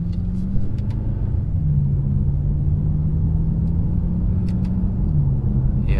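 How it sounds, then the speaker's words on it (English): A BMW M6 Gran Coupe on the move, its engine a steady low rumble with road roar inside the cabin, holding an even drone with slight shifts in pitch throughout. "here is a little POV action of a BMW"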